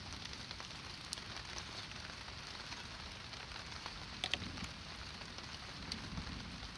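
Heavy rain pours onto a newly built field hut, a constant hiss of drops on the roof with a few sharper clicks and taps standing out now and then.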